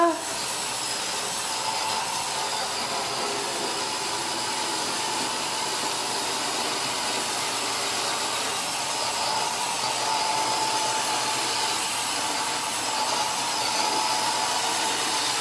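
A Roomba robot vacuum runs steadily with a continuous broadband whirring hiss of motor and brushes, unbroken for the whole stretch and fairly close.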